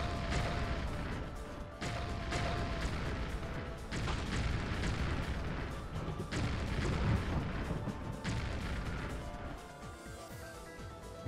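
Airstrike explosions in the real-time strategy game Dark Reign 2, a dense continuous barrage of booms and crashing blasts rolling on for several seconds, loud and close, tailing off at the end.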